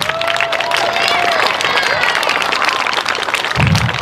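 Parents at a school band show night applauding Lucy and the color guard: a broad, sustained wash of crowd clapping at constant loudness, with a low rumble rising near the end.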